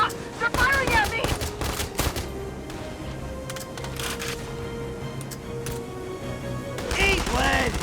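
Rapid bursts of gunfire crackle in a Valkyria Chronicles 4 battle on PC, dense volleys and single shots overlapping steadily over a dull rumble, with short game voice shouts at the start and near the end.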